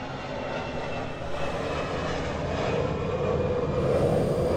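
An airplane passes overhead outdoors, a steady broadband engine roar that swells gradually over a few seconds, heard alone with no talking.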